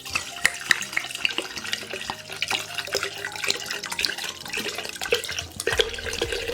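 Rum is poured over avocado pits, a close, splashing liquid pour with irregular gurgles and drips that carries on for several seconds.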